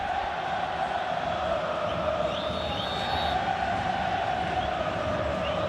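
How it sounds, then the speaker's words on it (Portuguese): Grêmio supporters sing without pause in a packed football stadium during a 2010 Brazilian league match against Flamengo, forming a dense, continuous roar of distant chanting voices with no breaks. "A torcida do Grêmio não para de cantar um só instante"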